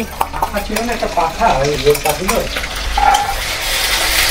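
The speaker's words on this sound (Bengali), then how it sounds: "আমি এখন পেঁয়াজটা এখানে ভালো করে নাড়াচাড়া করে নেব।" Onions and ground spice paste stirred and fried in a pan, a loud close sizzle with continuous scraping of a spatula against the pan.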